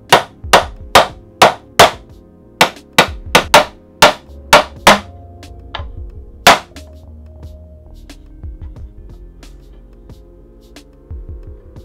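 Sharp hammer strikes on snug-fitting wooden shelves for a tool cabinet land in a quick irregular series, then thin out to a few isolated knocks over a low background hum.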